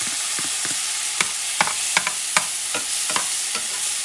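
Garlic and grated tomato sizzling in a pan while being stirred fast, a continuous loud hiss broken by sharp spatula scrapes and clicks at irregular intervals, no voices.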